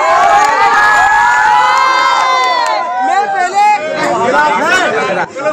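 A loud crowd shouts and cheers at an election campaign event in Pandhana, Khandwa, with high children's voices and whoops mixed into a dense, continuous wall of noise.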